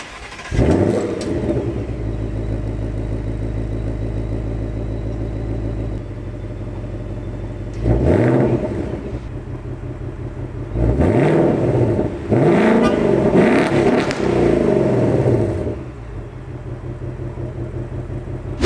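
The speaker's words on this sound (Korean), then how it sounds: "열림 버튼 한번, 잠금 버튼 한번 눌러주면 최대 5000rpm까지 랩빙을 쳐준다고 합니다" A seventh-generation Ford Mustang GT with a V8 is revved by remote to about 5000 rpm while parked. It settles into a deep idle rumble and then gives several sharp, loud revs that swell and fall back, with no voices.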